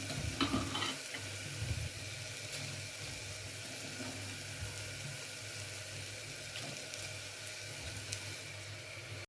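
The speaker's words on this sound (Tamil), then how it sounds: "இப்போ நான் பாஸ்மதி ரைஸ் எல்லா அரிசியும் சேர்த்துட்டேன்" Basmati rice grains rustle and sizzle in a pot of mutton biryani as they are stirred, a steady frying hiss with a few scraping bumps early on, no talking.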